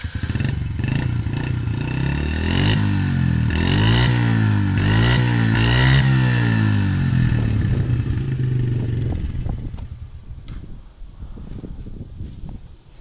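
A dirt bike engine revs loud and close, rising and falling through several throttle sweeps before dropping back to a rough idle and fading away.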